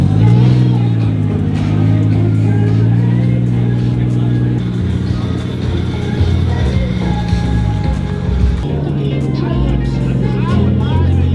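An LS V8 swapped into a Datsun Z runs on a dynamometer, a loud steady engine drone with shifting rumbling tones filling the space throughout, while people talk under the noise.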